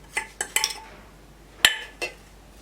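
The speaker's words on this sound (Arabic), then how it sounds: "بعد كده ببدا اقلب كويس عشان تتجانس" A spoon scrapes and clinks against a dish while stirring sauce and spices together, a few sharp metallic taps spaced irregularly, close and fairly quiet, with no talk.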